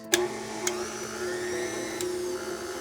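A stand mixer runs steadily while mixing cookie batter for red velvet whoopie cookies, a faint whirring motor hum with a few light clicks, no talk.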